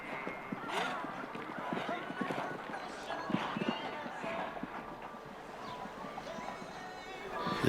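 Horse hooves thudding on the arena footing during a CSI4* show jumping grand prix round, a quick irregular clip-clop rhythm at moderate distance, heard among background voices and crowd murmur.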